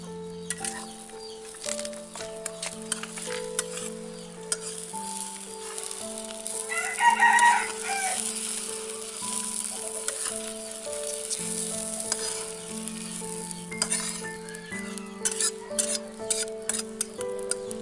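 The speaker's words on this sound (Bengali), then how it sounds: "আমি এইভাবে লাল লাল করে ভেজে নিলাম।" Cabbage fries in a pan to a reddish brown, with a continuous close sizzle and occasional stirring, while a rooster crows in the background partway through.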